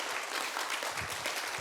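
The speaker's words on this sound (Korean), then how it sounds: "다시 한번 우리 김정학 관장님께 뜨거운 박수 부탁드리겠습니다" Audience giving warm, dense applause for a museum director at a traditional music and dance evening, sustained clapping from many hands.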